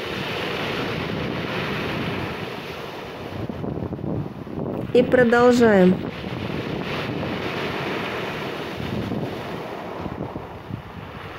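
Waves wash at a body of water while wind buffets the microphone in a constant rush; a voice speaks briefly about halfway through.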